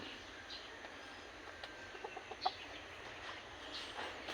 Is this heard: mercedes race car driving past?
no